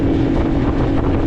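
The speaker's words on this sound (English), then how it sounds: "The wind's a beast." Strong wind buffeting outdoors, a loud steady roar with gusty rumble and microphone wind noise throughout, with no one talking.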